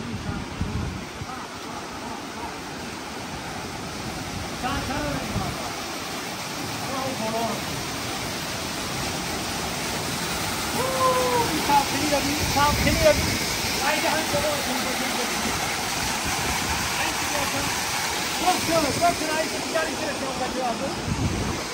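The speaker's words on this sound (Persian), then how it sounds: "این شرشره رو بودی" Waterfall in the Darvoz mountains, a constant dense rushing roar that swells slightly midway, with wind buffeting the microphone and faint voices talking beneath the water noise.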